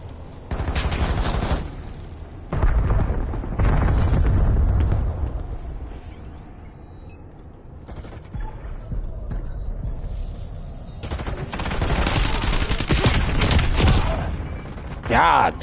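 Heavy, sustained gunfire in Call of Duty Warzone, long loud bursts of rapid shots broken by brief lulls, with a voice talking faintly at times.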